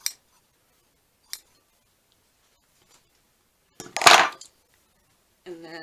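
Scissors cutting a strip of paper for a junk journal: a few sharp isolated snips, then a louder rustling cut that lasts about half a second. A brief voice follows at the end.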